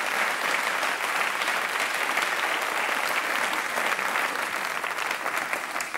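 A German TV studio audience applauds continuously for several seconds, a dense, even wash of clapping from a large crowd with no speech over it.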